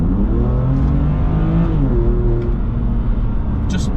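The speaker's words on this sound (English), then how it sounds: "I'll pull it in Sport Plus, floor it." A BMW M2 in Sport Plus accelerates hard at full throttle on a dry road, its engine note loud and close, rising through the revs with a brief shift dip midway.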